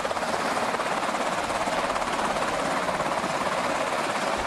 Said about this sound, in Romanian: Un elicopter i-a transportat de urgență la spitalul din baza Bagram.